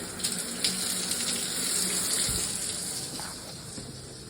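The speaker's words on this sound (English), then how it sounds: "It hits that tile. Okay? Hits the tile. Whatever, it gets wet. It splashes everywhere." A bathroom faucet runs steadily, its stream striking tile and splashing outward, a constant close gushing wash with a few small knocks partway through.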